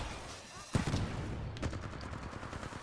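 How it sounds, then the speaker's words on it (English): Rapid LMG gunfire in Titanfall 2 breaks out after a short lull and continues as dense, loud bursts of shots for the rest of the moment, with other game effects mixed in. "This is why having an LMG for this part is good. Because I'm going to be able to shoot a lot of people."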